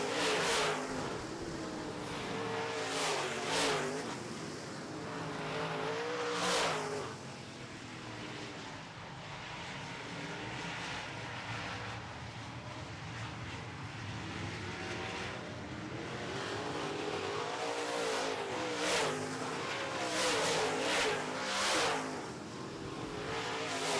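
Late model stock cars race around an oval track in a feature event, engines roaring continuously with repeated loud pass-by surges as cars sweep close and fade away, a dense, steady racket throughout.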